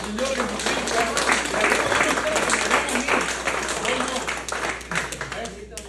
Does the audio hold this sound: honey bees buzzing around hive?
no